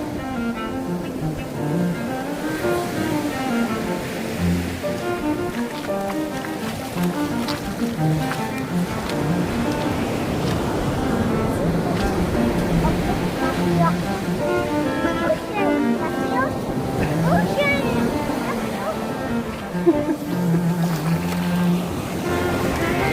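Ocean waves at Dana Strand Beach washing in a steady roar under wind, with people talking and a voice over the surf throughout.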